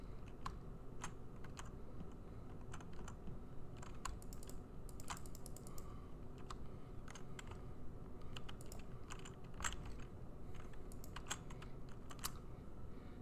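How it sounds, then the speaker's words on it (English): Computer keyboard typing during an Among Us game, a faint run of scattered key clicks and taps over a steady low background hum, with no voices. "The sound of the keyboard."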